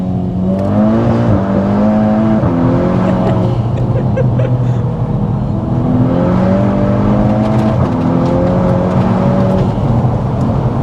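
A Stage 2+ tuned Volkswagen Scirocco R accelerates hard from inside the cabin, its engine note climbing and dropping through several quick gear shifts, loud and continuous throughout.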